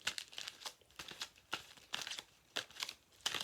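Tarot cards are shuffled in quick crisp bursts, about a dozen papery riffles and slaps in uneven rhythm, close and fairly quiet, with no talking.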